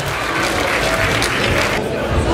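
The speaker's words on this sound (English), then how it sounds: "Ladies and gentlemen, please give Adam a round of applause." A crowd at an outdoor chilli eating contest at Silverstone Woodlands during the 2022 F1 weekend applauds steadily and loudly, mixed with cheering and chatter as people talk.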